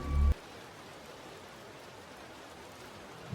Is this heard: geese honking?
no